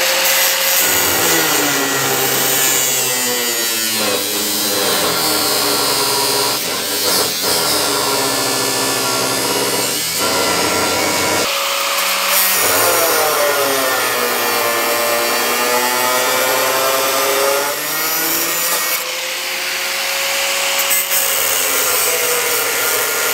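A hand saw cutting through a metal door bar on a car door, wood wedged in the cut, making a loud, continuous scraping rasp with long rhythmic strokes up close.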